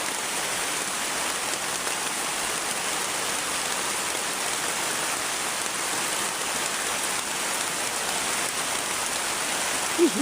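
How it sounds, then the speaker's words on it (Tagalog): Heavy rain pours down on a mountainside in a dense, steady hiss that holds evenly throughout, close and enveloping, with no voices. "Grabing lakas ng ulan."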